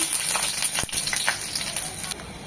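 Chopped garlic fries in two spoons of mustard oil for red spinach and lentils, a loud, even crackling sizzle with a single brief clink partway through, close and without talk.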